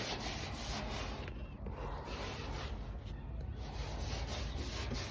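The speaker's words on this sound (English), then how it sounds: "So, what I'm just gonna do is just take this Scotch-Brite pad" A Scotch-Brite pad scuffs the surface of a classic car where acid touched the paint, a continuous close, dense rubbing and scraping that keeps an even, slightly pulsing rhythm throughout, with no voices.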